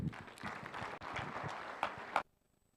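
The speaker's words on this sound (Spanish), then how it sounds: "vamos a recibir con fuertes aplausos al grupo de jóvenes RBC." An audience at a Bible seminar gives a burst of applause, a steady dense clapping wash lasting about two seconds before cutting off abruptly into quiet.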